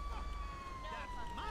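A fire truck siren in GTA 5 wails in a rising and falling tone close by, heard briefly under people talking.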